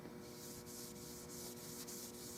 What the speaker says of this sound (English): I use heavy oil, like a 30 weight oil, and 4/0 steel wool